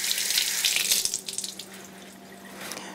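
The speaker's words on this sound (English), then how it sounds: "just give it a quick rinse under the water" Halibut rinsed under a running kitchen tap: loud, hissing water spray for about a second, then a softer trickle and splashing in the sink, close by and without speech.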